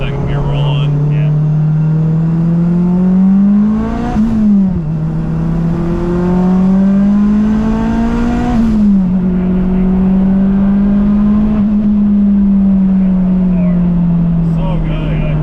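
A turbocharged all-wheel-drive Acura RSX with a full exhaust pulls hard through a second-gear roll-on, its engine note rising steadily with a brief dip at each shift-like break, loud and close from inside the car, with occasional voices over it.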